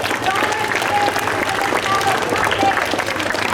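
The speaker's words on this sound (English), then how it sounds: "a huge round of applause for our school choir" Students and staff applaud a school choir at a welcome assembly, steady clapping from a crowd in a hall with voices mixed through it.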